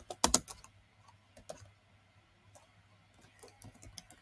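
Python code being typed on a computer keyboard: a quick, loud burst of key presses, then lighter, irregular taps scattered over several seconds, close by in a quiet room with no talking.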